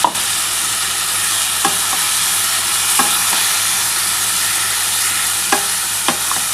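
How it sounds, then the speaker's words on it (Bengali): Ground spice paste frying with potato and cauliflower for a Bengali vegetable curry, a steady close sizzle with occasional sharp spatula scrapes and clinks against the pan. "খুব ভালো করে কিন্তু মশলাটা দিয়ে কষাতে হবে"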